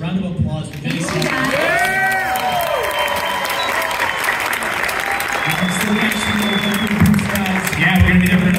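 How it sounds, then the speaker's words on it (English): A crowd at a Comic-Con Q&A panel applauds Jennie Kwan, with steady, dense clapping throughout, scattered cheers and whoops rising above it, and voices mixed in. "please, a round of applause for Jennie Kwan"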